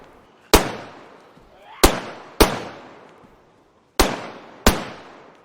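Suppressed pistol shots in the DayZ video game, five sharp loud cracks with quick decaying tails, spaced irregularly about a second apart.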